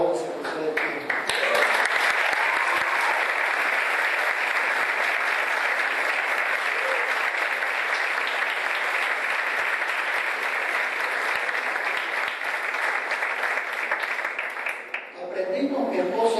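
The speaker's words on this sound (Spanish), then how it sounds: "que le diéramos un fuerte aplauso al Señor por el ministerio de alabanza que ustedes tienen" Loud, sustained applause from a church congregation, offered to the Lord in thanks for a praise ministry, a steady dense wash of clapping that rises quickly and holds for about fourteen seconds before fading as a voice returns at the end.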